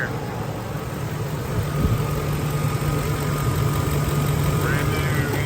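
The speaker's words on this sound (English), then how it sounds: "Brand new engine. Sounds good. Looks like it's running smooth." A brand new engine fitted in a truck idles smoothly and steadily, a close, even low hum running the whole time without stumbles.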